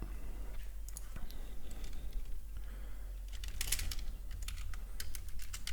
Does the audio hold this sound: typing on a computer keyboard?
yes